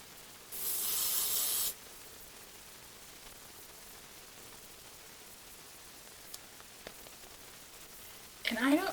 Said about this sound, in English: instead of spraying this all over my face, I spray it onto the sponge just like that